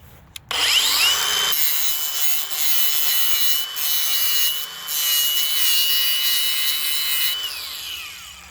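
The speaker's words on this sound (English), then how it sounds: "I'm just gonna grind off this nub right here." Grinder working a nub off a metal Suzuki Samurai door handle, a loud, steady high-pitched grinding whine lasting several seconds with brief dips in pressure, close up and without talking.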